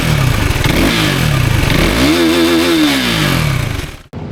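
A KTM RC390 motorcycle engine revs loud and close, its pitch climbing and falling in a single sustained roar before cutting off abruptly near the end.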